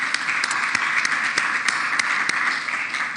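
A conference audience in Kigali, Rwanda gives a round of applause after a talk, many hands clapping in a steady, moderately loud wash with distinct individual claps standing out, no speech over it.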